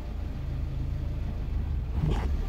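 A car engine idles with a low, steady rumble while held at the clutch bite point with the handbrake on, straining without moving, followed by a brief rise near the end.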